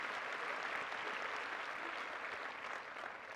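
Audience applause fills a conference hall during a medical association president's address, a dense steady wash of many hands clapping at once that holds evenly and eases slightly toward the end.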